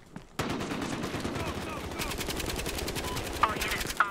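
Rapid automatic gunfire in the multiplayer shooter Battlefield Hardline, dense crackling bursts of shots close by with a couple of sharper reports near the end.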